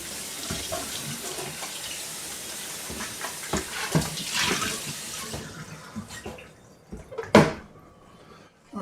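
Chestnuts being washed under a running tap, a steady broadband rush of water with clatters and splashes that stops partway through, followed by a few knocks and a sharp bang near the end.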